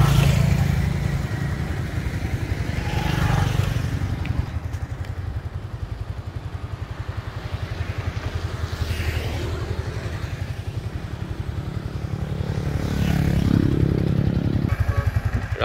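Yamaha Exciter 155 motorcycle engine droning steadily during a ride, a loud continuous mid-pitched hum with wind rush and slight swells as the throttle changes.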